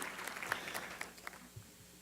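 Light scattered clapping from a small audience at an awards speech event, faint and brief, several distinct claps over a couple of seconds.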